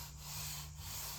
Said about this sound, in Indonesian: Teman-teman amplas dengan sangat hati-hati